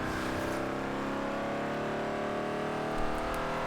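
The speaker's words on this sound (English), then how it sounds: "let's launch it at some high RPMs" A 1988 Chevrolet Monte Carlo SS in Forza Horizon 2 launches at high RPM, its engine droning loud and steady as the pitch climbs gradually, close and continuous with a slight bump near the end.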